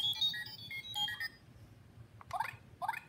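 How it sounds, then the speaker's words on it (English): Electronic noises from the banana button on a Paw Patrol Tracker Monkey Temple toy playset: short beeping tones, then two quick chirpy sound effects, all faint. "So you press this yellow banana, and it will make three noises."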